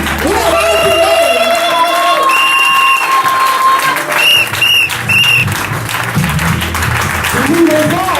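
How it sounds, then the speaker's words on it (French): A church congregation claps and cheers loudly in a steady wash of applause, with voices calling out and talking through it from beginning to end. "Acclamez les hommes."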